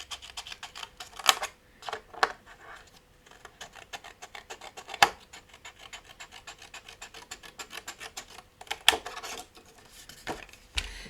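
Scissors cut card straight along its folds in a run of rapid rasping snips, punctuated by a few sharper cuts, close and quiet with no talking.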